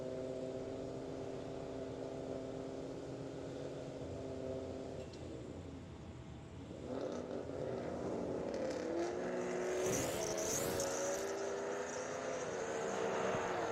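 Two drag-racing Mustangs, a 2011 and a 2017, at an NMRA event idle and roll toward the starting line, a loud sustained engine drone that shifts and swells midway, heard from a distance without talk.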